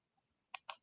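Three quick, close, faint clicks of a computer mouse on a PowerPoint slide box come after a near-silent pause.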